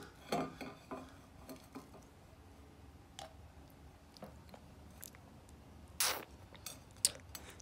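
A one-year-old toddler eats from a dish with a spoon, producing scattered soft taps, clinks and scrapes of the spoon against the dish, faint and close, with quiet handling sounds in between.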